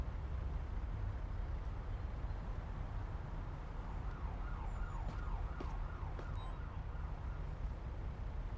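An ambulance siren wails in the Police Simulator: Patrol Officers game, rising and falling at moderate distance through the middle of the stretch over a steady rumble of traffic and engine noise.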